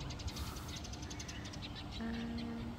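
Outdoor birds calling in short repeated chirps over steady background noise, with a tonal call entering near the end; no one speaks.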